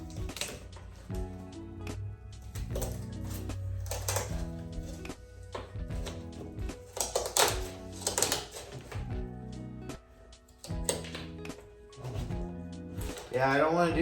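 Scissors snip repeatedly through carbon fiber sheet, a run of close, sharp crunching cuts in an uneven rhythm, with a voice talking over parts of it.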